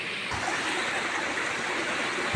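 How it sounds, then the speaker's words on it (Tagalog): Rushing river water roars steadily and loudly up close, a constant broadband flow with no voices. "Malakas ka talaga ang tubig dito mga kaibigan"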